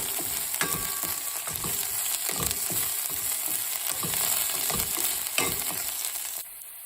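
Onions, green chilies and cumin cooking in a pan for eggplant curry, a steady sizzle with repeated scraping stirs, close and even, cutting quieter near the end, with no speech.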